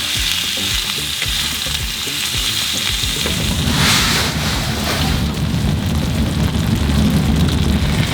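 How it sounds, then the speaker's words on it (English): Steak sizzling in olive oil on the hot surface of a tent stove during cold-weather backpacking in Michigan, a loud, continuous, close crackling fry that thickens partway through, with no talking. "we got to cook the meat, and the nice thing about the hot tent is you just have this hot surface you can cook on"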